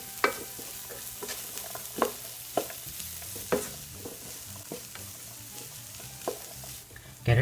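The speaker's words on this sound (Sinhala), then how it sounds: "මේ ටික හොඳින් කලවම් කරගන්න. ටිකක් කැරට් ටික ටෙම්පරාදු වෙනකන්." Carrots stirred and fried in a pan for a chicken pasta dish, with a steady close sizzle broken by sharp, irregular scrapes and knocks of the stirring utensil.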